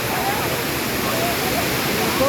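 Tomara waterfall on a mountain stream near Ayder in Turkey: a steady, loud, broadband rush of falling water that fills the whole clip without a break.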